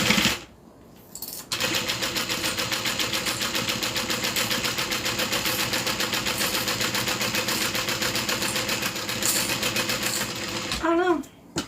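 A sewing machine stitches a Tiffany Dome satchel in one long, rapid, steady run of close mechanical chatter, with brief handling noise before and after.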